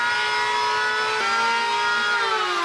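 A wooden board's edge is chamfered aboard a wooden liveaboard boat. A loud, steady tool whine with many harmonics runs throughout and dips in pitch once partway through, with no talking.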